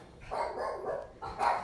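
A dog barks a few times at moderate distance, in short muffled bursts rather than sharp close barks, with no talking over it.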